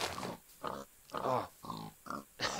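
A pig in a survival video game oinks and grunts in a series of five short, separate snorts, each close and clear, with silent gaps between them.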